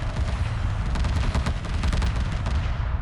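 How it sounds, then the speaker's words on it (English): Missile corvettes in a Homeworld space battle between Vaygr and Turanic Raider fleets fire in dense, rapid volleys, like a continuous crackling barrage with no pauses. "So many missiles flying around,"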